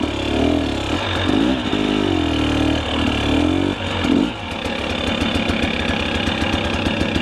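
Motorcycle engine idling on a steep uphill trail, a steady close mechanical rumble that rises and wavers briefly before settling into an even, continuous putter.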